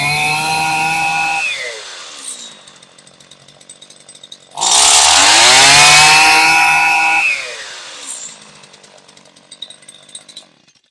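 An old Stihl FS85 string trimmer that sat unused for years, its two-stroke engine running loud and close, dropping to idle, then revving hard for a few seconds before settling back to a rough, sputtering idle.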